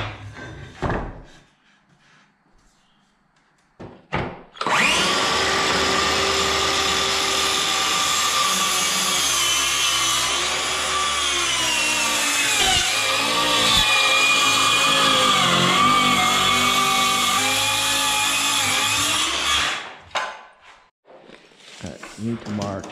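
A power saw cutting an inch off a board roars at full load for about fifteen seconds, with pitch dipping as the blade works through, after brief talk and before spinning down to quiet.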